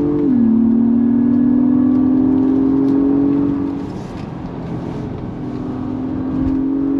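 A 2023 Acura MDX Type S sport SUV at full throttle from a standing launch, its engine note rising as a loud, strong drone, dipping briefly at a shift and then building again, heard from inside the cabin with no talk.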